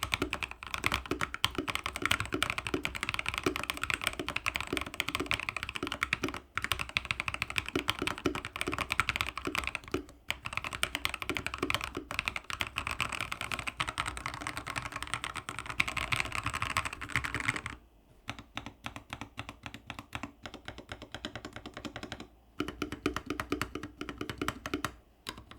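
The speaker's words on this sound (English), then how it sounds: "let's try up a sound test of the keyboard" Fast continuous clacking of an Alienware Pro mechanical gaming keyboard, dense keystrokes close up, with brief pauses and a lighter burst of typing near the end.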